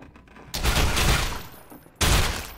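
Gunfire from the video game Entropy Zero bursts out in two loud volleys, the first sustained for about a second and the second breaking in after a short quieter gap, with no talking over it.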